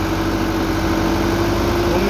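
An ACE DI 6565 60 HP tractor engine idling, a steady, loud, low rumble with a constant hum that runs unbroken and alone for two seconds.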